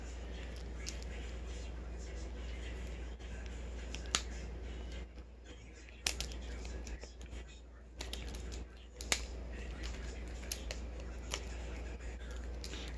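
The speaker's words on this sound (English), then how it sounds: "I have to use scissors." Scissors snipping into a plastic Peeps mystery egg, with sharp, scattered clicks and cuts that stand out over a steady, soft background and faint voice sounds.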